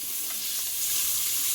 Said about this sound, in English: You hear that sizzle of that pork.